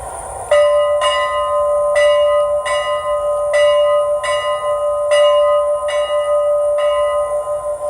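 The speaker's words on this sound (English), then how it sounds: "So there's our bell." Locomotive bell from an Athearn Genesis 2-8-2 model with a DCC sound decoder, ringing steadily about twice a second for several seconds, loud and close with a sustained metallic tone.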